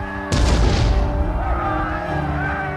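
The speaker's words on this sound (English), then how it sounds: "With his men facing withering enemy fire, Bonaparte was in the thick of it." A sudden loud boom of cannon fire on a Napoleonic-era battlefield, followed by sustained rumbling gunfire and battle noise that fades gradually.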